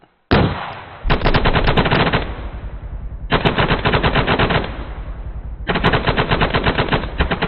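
Rapid, loud bursts of automatic fire from an A-10C Thunderbolt II in a flight-simulator training exercise come in three long sustained volleys with short gaps, dense and continuous, with no talk.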